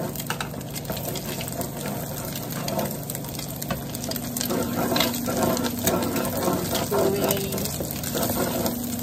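Tocino vegetable fried rice stirred and tossed in a pan, steady sizzling and scraping under a continuous hiss, close and fairly loud throughout.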